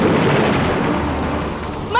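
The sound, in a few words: heavy rain and thunderstorm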